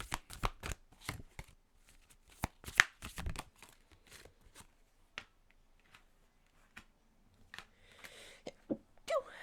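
Oracle cards shuffled by hand for a reading, a series of crisp riffling flicks and soft slaps in irregular bursts, close and fairly quiet, with brief pauses between.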